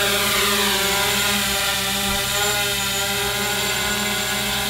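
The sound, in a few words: MJX Bug 3 brushless drone motors flying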